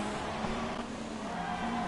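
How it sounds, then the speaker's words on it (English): An F1 race car engine from a racing video game at Monaco, a steady high-pitched whine holding one note with slight pitch shifts, heard faintly and alone. "just close your eyes and listen to the engine noise"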